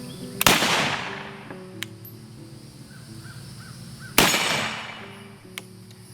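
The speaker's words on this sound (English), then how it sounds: "let's see how this thing shoots." A Remington Model 81 rifle fired from a bench outdoors: two loud, sharp shots several seconds apart, each ringing into a long echoing decay, with crows cawing faintly in the background.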